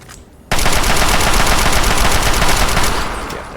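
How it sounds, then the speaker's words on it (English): Sustained automatic fire from a Chinese assault rifle in Fallout 3, a loud rapid burst that starts abruptly after a brief quiet moment and rattles on continuously, easing slightly toward the end. "We're going to Chinese assault rifle."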